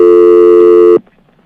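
A telephone rings with a steady, loud electronic tone for about one second, then cuts off abruptly, leaving faint low background sound.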